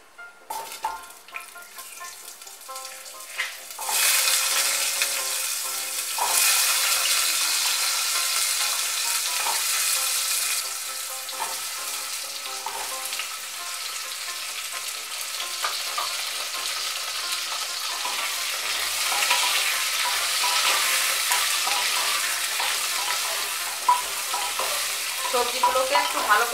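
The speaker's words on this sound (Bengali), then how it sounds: "সবজিগুলোকে একটু ভালো করে ভেজে নেব।" Mixed vegetables with crushed ginger frying in a pan for Bengali daliya khichuri, a steady loud sizzle with scraping stirring strokes running throughout, no voices.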